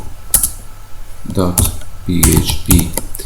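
Keys clatter on a computer keyboard as a web address is typed, in short close bursts of clicks, with someone speaking over part of the typing.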